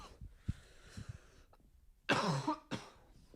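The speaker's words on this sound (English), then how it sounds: "That cough is horrendous." A close, harsh cough with a raspy throat-clearing sound, then a second shorter cough after a brief pause.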